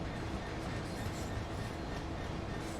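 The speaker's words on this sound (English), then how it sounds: "We're in a train." A simulated train rolls steadily along the East Coastway line between Brighton and Eastbourne, a continuous broadband rumble of wheels and running gear with no distinct clicks or breaks.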